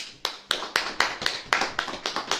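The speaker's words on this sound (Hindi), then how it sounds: "तालियां नहीं बजाओगे?" A church congregation claps in time, sharp evenly spaced claps about twice a second, moderately loud in a reverberant room, with no talking over them.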